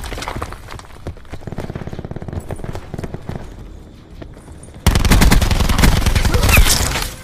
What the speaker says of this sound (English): Cluster grenade.